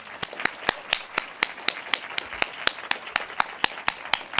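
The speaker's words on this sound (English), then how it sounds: "a final huge round of applause to Arseny Zhelaev and to all of our speakers" Sparse, evenly timed handclaps ring out at a lecture on avant museology, roughly four per second in a steady rhythm, as if from only a few listeners rather than a full crowd.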